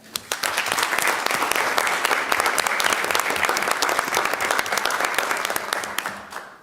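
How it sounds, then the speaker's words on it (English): A room at a school board meeting breaks into applause for a teacher honoured as teacher of the year, dense clapping starting sharply, holding steady and loud, then tapering off. "So give them a round of applause."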